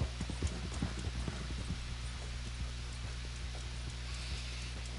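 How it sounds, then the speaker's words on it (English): Horse hooves clip-clop in the Red Dead video game on PlayStation 4, a rapid, regular trotting rhythm of crisp, close hits over a low steady hum, with no talking. "who's riding the horse right now"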